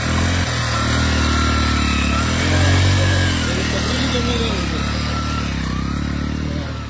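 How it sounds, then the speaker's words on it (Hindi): A stock, unmodified motorcycle being ridden, its mid-pitched engine running steadily throughout with a slight rise in revs near the middle, loud and close with no talking. "ये मोटरसाइकिल है, नॉर्मल मोटरसाइकिल है जो अपन चलाते हैं"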